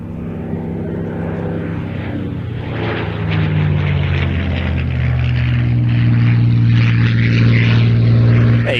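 A Supermarine Spitfire's piston aircraft engine drones loud and steady, a deep propeller roar that swells gradually as the plane draws nearer, with no talk over it.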